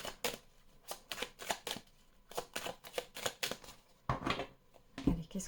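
Tarot cards are shuffled by hand close up in a quiet room, making a rapid series of crisp riffling bursts in an uneven rhythm.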